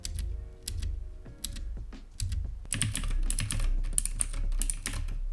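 Rapid clicky keystrokes on a mechanical keyboard, close and crisp, typing in bursts with brief pauses.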